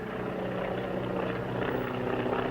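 Propeller airplane engine drones steadily overhead, a continuous buzzing hum with a low harmonic throb, fairly loud and unbroken, heard in a 1939 Western setting.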